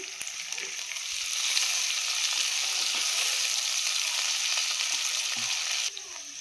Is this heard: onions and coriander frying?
yes